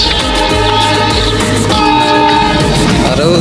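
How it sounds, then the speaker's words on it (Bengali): A train rumbles past close by in a residential area beside a waterway near Tongi river port, loud and continuous, with low engine drone, metallic rattling and a sustained horn-like tone throughout. "ট্রেন যাচ্ছে"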